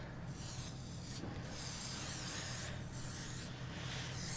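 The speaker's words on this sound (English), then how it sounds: "It's a light shine spray." Several short bursts from a can of light hair shine spray hiss close by, separated by brief pauses, over a faint background hum.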